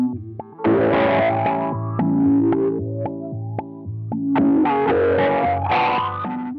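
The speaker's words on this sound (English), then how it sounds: "F61 has two LFOs, one creates a beat and the other creates phaser-like sounds." Sonuus Wahoo effects unit on preset F61, with one LFO pulsing a rhythmic beat and another sweeping a phaser-like swirl over a distorted, chorused guitar-type tone; loud and continuous, with choppy accents throughout and no talking.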